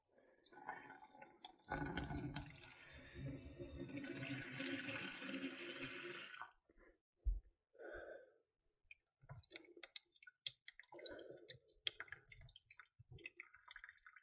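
Water rushes loudly through boiler pipework after the supply is turned back on during a Worcester Bosch boiler repair, then cuts off, leaving clicks, drips and brief trickles.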